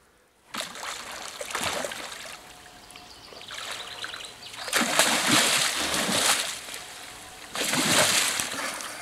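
A carp is released back into a lake, and the water splashes in three distinct bursts between quieter trickling and dripping, close and fairly loud.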